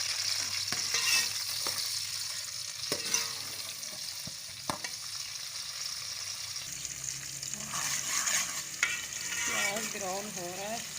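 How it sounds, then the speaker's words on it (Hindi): Chopped onions sizzle and crackle in hot oil while being cooked for a pea and pumpkin dish, a steady close frying hiss with occasional stirring clatter and scraping over roughly eleven seconds. "ऑयल गर्म हो चुका है, ये मैंने प्याज काट के रखे हैं और ये डाल दिए हैं।"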